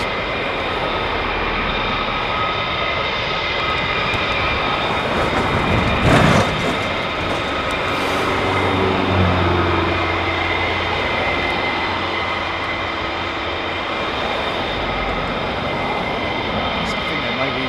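An F-22 Raptor fighter jet's engines roar steadily at an airfield, a continuous loud broadband rumble with a brief louder swell partway through.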